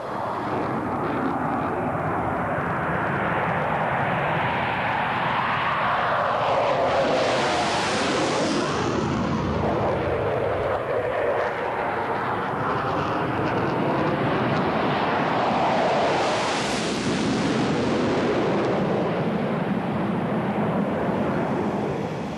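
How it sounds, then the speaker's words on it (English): Heavily laden bombers pass overhead with their escort fighters, a loud continuous jet roar that swells in two broad passes with shifting pitch, dense and unbroken. "Most of the heavily laden bombers and their escort fighters are expected to get through to wipe out their targets."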